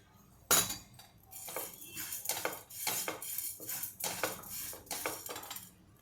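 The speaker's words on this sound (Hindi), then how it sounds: "अब मैं मूंग की दाल को भूनती हूँ" Moong dal being dry-roasted in a pan for Maharashtrian metkut, heard as a sharp opening clank followed by repeated light scraping and rattling strokes of a utensil against the pan, fairly quiet and close, with no speech.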